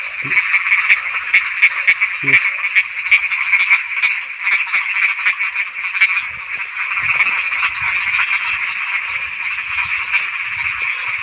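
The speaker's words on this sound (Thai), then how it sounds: "หาจับกบจับอึ่งกันพี่น้อง" Frogs croak in dense, continuous chorus during rain at night, loud and close, with sharp individual calls punctuating the steady drone and faint talk beneath.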